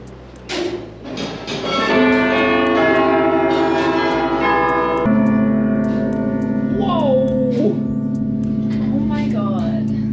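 Church bells ring from a bell tower in Belgium, loud and sustained with layered ringing tones that carry on steadily while people nearby exclaim and talk over them.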